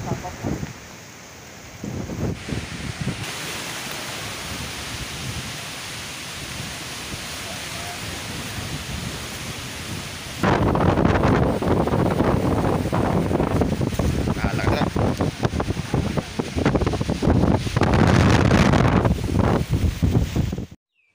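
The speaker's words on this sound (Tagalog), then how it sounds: "Lakas pa rin yung hangin." Strong typhoon wind roars and buffets the microphone continuously, growing louder and gustier partway through, with waves and faint voices beneath.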